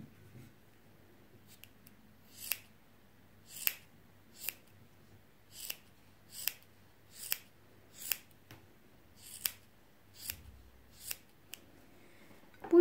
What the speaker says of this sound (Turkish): O yüzden şöyle uçlarını güzelce keselim.